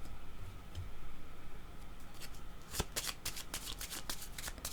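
Tarot cards are shuffled in a quick burst of crisp, close riffling slaps that start partway through and continue to the end over a faint room hiss.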